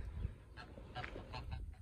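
Several short nasal honks from a goose, faint and somewhat distant, spaced irregularly over a quiet background.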